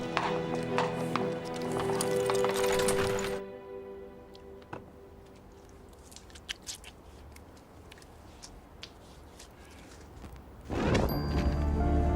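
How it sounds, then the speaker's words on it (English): Horses' hooves clip-clop in scattered, uneven taps as the horses are led along, first under loud music and then more exposed in a quieter stretch before the music swells again. "Lead the horses, Charles."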